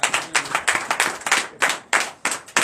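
A church congregation claps in quick, uneven bursts, close and lively, with several hands overlapping in a fast rhythm.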